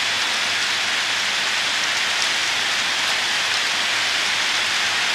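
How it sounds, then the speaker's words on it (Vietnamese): Heavy rain pours down in a steady, dense hiss that fills the whole stretch, close and loud, with no voices. "Mưa to lắm."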